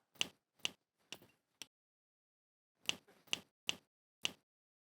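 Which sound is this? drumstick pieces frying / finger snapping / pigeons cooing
finger snapping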